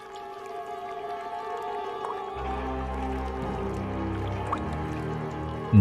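Cartoon sound effects of something being sprinkled into a pond: soft dripping, squishy liquid splashes and low bubbling tones, moderately quiet with no voices.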